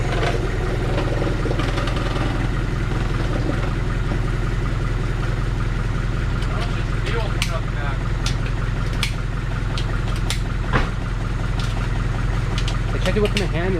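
Engine idling steadily and running rich, with fuel in the exhaust, during compression testing; a continuous low rumble with light clatter and ticks throughout, close by, with voices talking over it.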